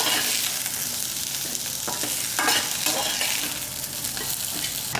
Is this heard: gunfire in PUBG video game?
no